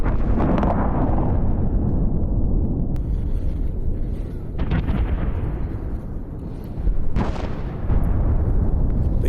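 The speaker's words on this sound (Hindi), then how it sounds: "हूती के ठिकानों पर आईडीएफ का विध्वंसक हमला हुआ है।" Heavy, sustained roar of explosions from an Israeli missile strike on a Houthi power plant, a dense continuous rumble with several sharper bursts rising out of it, loud and without any speech.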